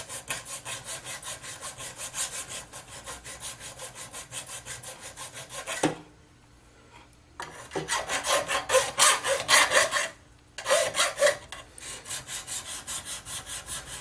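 Draw filing along the edges of a headless guitar body during repair: steady, rhythmic rasping strokes, close and fairly loud, with two short pauses and no talk.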